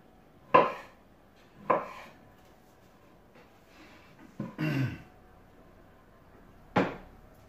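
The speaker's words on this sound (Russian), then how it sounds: "Пока я буду резать огурцы" A knife cutting cucumbers for vinaigrette salad on a board, several separate sharp knocks spaced a second or more apart with a brief scraping handling noise between, close and quiet in a still room.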